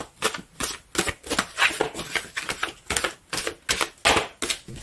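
Tarot cards being shuffled by hand, a close, crisp run of rapid riffling bursts repeating in an uneven rhythm with brief pauses between them, no voices.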